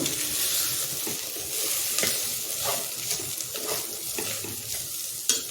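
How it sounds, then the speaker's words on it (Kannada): Rice and vegetables sizzle in hot masala oil in a pan for methi leaf pulao, with a steady loud frying hiss and scraping stirs throughout, close by and without speech. "ಒಂದು ಸುತ್ತು ಹುರಿದಾಯಿತು ಇನ್ನು ಒಂದು ಹುರಿಯೋಣ"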